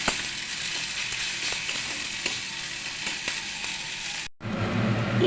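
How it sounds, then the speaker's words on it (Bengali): Green chili and ginger paste fry in oil while being stirred for a Bengali potol dish, a dense, close sizzle with scraping strokes that cuts out briefly before resuming louder. "একটু কাঁচা লঙ্কা আর আদা বাটা দিয়ে দিলাম। এগুলোকে নাড়াচাড়া করব যতক্ষণ না পর্যন্ত একটু কাঁচা গন্ধটা যায়।"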